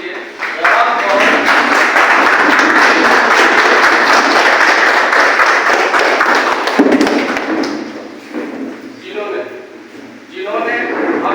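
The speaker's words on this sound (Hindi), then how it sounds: "आप लोग जोरदार तालियों से स्वागत करिएगा" Loud, sustained applause from a seminar audience welcoming the founder, dense clapping filling about eight seconds before thinning and fading near the end.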